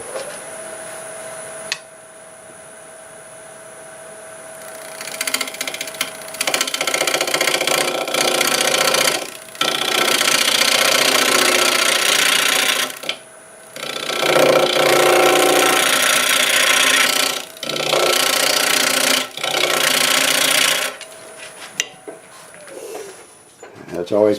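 Wood lathe spinning cherry wood at about 900 RPM while a 1/2 inch bowl gouge cuts, producing loud, sustained rough scraping and whirring in long bursts separated by short pauses over a steady motor hum.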